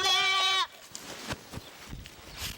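Meat goats bleat loudly in one sustained, wavering call up close, followed by quieter farmyard shuffling and faint background noise.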